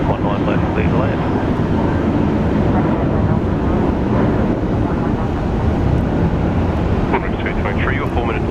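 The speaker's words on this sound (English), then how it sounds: "Jetstar 565, heading off to Melbourne." Jetstar airliner departing Brisbane Airport for Melbourne, a loud sustained jet engine roar with wind buffeting across the whole stretch, a voice talking over it.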